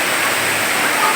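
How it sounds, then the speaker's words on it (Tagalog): Running massage water at Badyang Spring pool, a loud continuous splashing hiss pouring steadily throughout. "running water"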